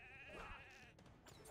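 Sheep bleat in a video game, a few wavering cries rising over steady game sound effects and a busy fighting scene.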